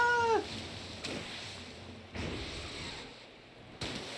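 A pet cat gives a single short meow right at the start, followed by quiet room tone broken by a few soft thumps.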